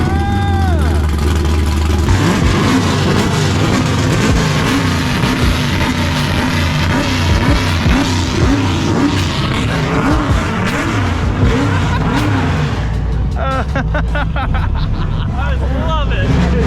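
A loud car engine roars and revs continuously, with people's voices and chatter mixed underneath.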